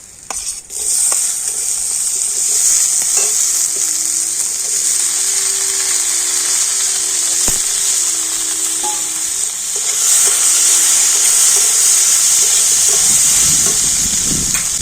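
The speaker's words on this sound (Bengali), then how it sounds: "এবার একটু নাড়াচাড়া করে তো সুন্দর করে একটা পুর তৈরি করে নেব" Spiced boiled-potato filling for singara being stirred in a hot pan, a steady sizzling hiss with scraping and occasional clinks of the spoon, close and continuous with no talk.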